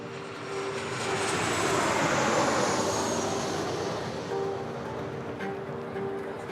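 Sustained roar of an American Airlines plane's engines, steady and fairly loud with a broad rushing tone that swells in the middle and then eases slightly, no voices over it.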